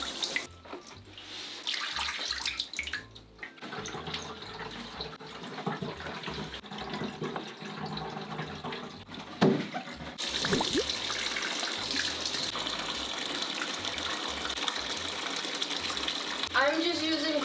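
Cold tap water runs into dusty aquarium sand for an axolotl tank, a continuous splashing rush with gurgles and shifting intensity, getting louder near the end, with someone talking over it.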